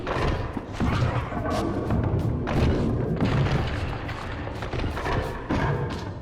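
A statue bursts apart in Legacy of Kain: Defiance with a deep booming impact, followed by a run of rumbling thuds and crumbling debris that stays loud for several seconds.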